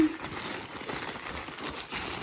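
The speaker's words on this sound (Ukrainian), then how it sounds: "зараз відкриємо ми його і подивимося, що тут в першому пакеті" Plastic packaging crinkles and rustles up close as a parcel of cosmetics and household items is opened, irregular crackling bursts continuing throughout.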